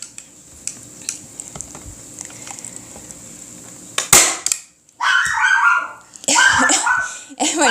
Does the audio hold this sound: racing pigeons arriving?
no